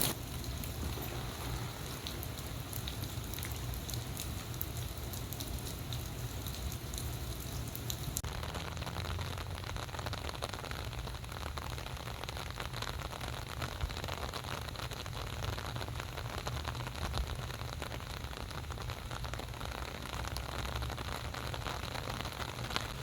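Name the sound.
heavy rain falling on a park gazebo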